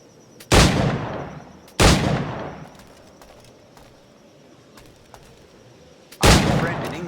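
Flintlock firearm shots in Assassin's Creed 4 Black Flag, three loud, separate booming blasts spaced a few seconds apart, each with a long rumbling tail.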